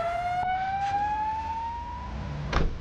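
An ambulance siren sounds as a single long, steady tone that climbs slowly over a couple of seconds, with a short bump of noise near the end and no talking.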